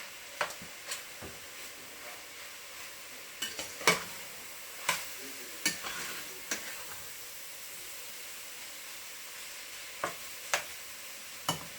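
Vegetables and meat get stirred into a pot of Creole chili, giving sharp, irregular scrapes and clacks of a spoon against the pot over a faint, steady sizzle.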